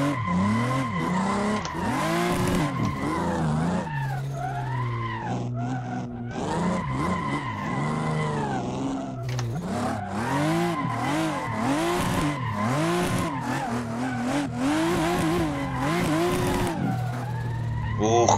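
A Toyota Supra drifts in Assetto Corsa, its engine revving hard as the tires squeal and skid in long continuous slides, with someone talking over the racing sounds.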